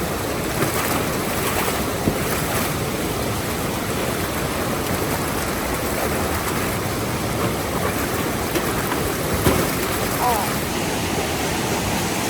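Broad, steady rush of the Eisbach river's standing surf wave, a constant churning water roar with wind buffeting the microphone and faint voices in the background.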